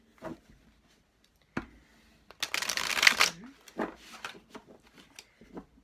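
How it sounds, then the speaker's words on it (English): A deck of oracle cards is shuffled by hand close up, a dense riffling burst in the middle framed by a few sharp taps and soft card slides, with brief quiet gaps around it. "I always like to shuffle live on camera"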